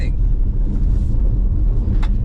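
Ford Mach-E Rally electric car driving hard on dirt, a loud close rumble of tires and gravel with a brief spray of stones near the end.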